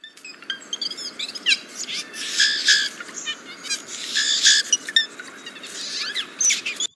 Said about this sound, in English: And then the whisper song is not something you'll hear pretty often,